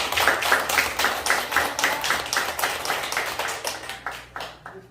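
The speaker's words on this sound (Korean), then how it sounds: "박수 한번" Clapping from a small group at a CPR training session, a steady run of roughly rhythmic claps that holds for several seconds and then thins and fades near the end.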